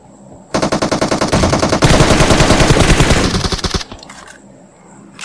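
Rapid machine-gun bursts fire loudly and continuously for several seconds in Battlegrounds Mobile India on the Miramar map, then cut off abruptly, leaving faint background.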